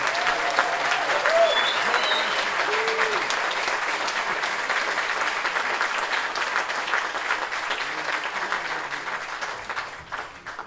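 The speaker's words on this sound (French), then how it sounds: "je voudrais un tonnerre d'applaudissements pour tout le monde et son équipe" Thunderous concert-hall applause at a jazz festival big band performance in a wooden theatre, dense sustained clapping from the whole audience with scattered voices, gradually fading toward the end.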